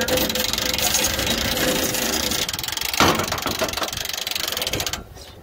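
A log splitter's conveyor runs with a loud, steady mechanical drone and rattle. A heavy clunk comes near the middle, and the noise drops away sharply at the end.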